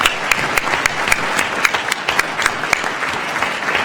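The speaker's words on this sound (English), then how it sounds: "Let's give her a big round of applause for thank you." Applause from an audience at a public hearing of the Joint Committee on Finance in Platteville, steady dense clapping with sharp individual claps standing out, sustained and fairly loud throughout.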